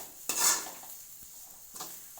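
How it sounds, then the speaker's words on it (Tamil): Grated coconut is stirred with ghee in a pan: two short, soft scraping strokes of a spoon against the metal, close up, with quiet pauses between them. "நெய்யுடன் தேங்காய் பூவை சேர்த்து கிளறவும்."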